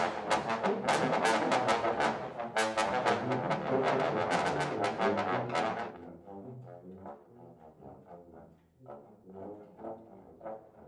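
A low brass ensemble plays sustained, rich chords picked up by distant balcony microphones in a reverberant hall, then drops to softer, quieter notes as the room rings out.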